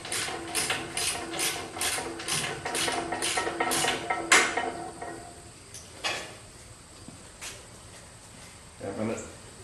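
Ratchet loosening a 1/2-inch bottom bolt on a front shock absorber, a quick rhythmic series of clicks for about four seconds followed by a few scattered metallic knocks, close by, with a person talking.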